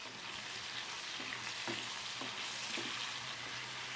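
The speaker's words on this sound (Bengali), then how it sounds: "2টো মিডিয়াম সাইজের পেঁয়াজ আর কিছুটা চেরা কাঁচা লঙ্কা দিয়ে আবার একটু ভালো করে ভেজে নেব।" Medium onions and slit green chillies frying in a pan make a constant, moderately quiet hiss, with a few faint stirring knocks in the middle and no voices.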